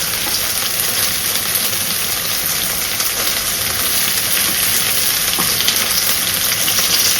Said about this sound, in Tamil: அது கூட நம்ம கட் பண்ணி வச்சுருக்கிற தக்காளியை ஆட் பண்ணிக்கலாம்